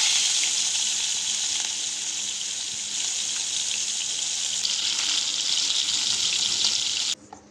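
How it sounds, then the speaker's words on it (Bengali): Pieces of katla fish fry in hot oil in a kadai, a steady dense sizzle with bright crackling spitting that holds close and loud throughout, cutting off abruptly near the end. "এখন আমি একটা একটা করে মাছ দিয়ে হালকা লাল করে ভেজে তুলে রাখবো।"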